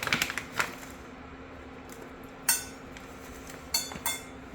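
Spoon scooping ghee into a cup, a few light metallic clinks and taps spaced apart in a quiet kitchen.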